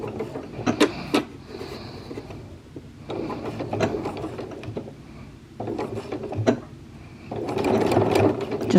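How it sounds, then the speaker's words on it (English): A sewing machine stitches a back tack while a McCall's 8385 garment is being sewn, running in several short bursts of fast mechanical whirring with pauses between, close-up and without speech. "I think I'll just put a little back tack there."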